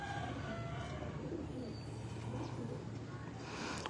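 Pigeon cooing softly in a breeder's loft, a low steady murmur of coos against faint background noise, with no clear talking.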